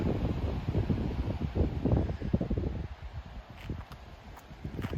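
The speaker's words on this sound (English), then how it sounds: "That wind once again just rushing out of this cap." Steady low wind roar rushing out of a mine opening at a mining park in Tonopah on a windy day, with gusty buffeting, loudest in the first half, then easing to a softer rush with faint rustling.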